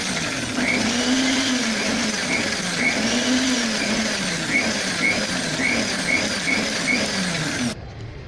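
A mixer grinder whirs loudly and steadily as it blends mayonnaise, its motor pitch rising and falling in repeated pulses before cutting off abruptly near the end, with no speech.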